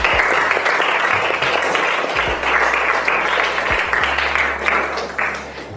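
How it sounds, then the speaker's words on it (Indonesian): Students in a madrasah tsanawiyah classroom clap together, producing a loud, dense, sustained burst of applause that stays steady for several seconds without speech over it. "Boleh tepuk tangan dulu dong."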